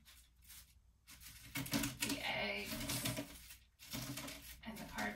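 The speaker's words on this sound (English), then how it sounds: "and the cardboard and the paper, and you can hear it crunching when you push down" Plastic sheet pressed down over cardboard and paper crunches and crackles in close, uneven bursts, quiet overall with short pauses between presses.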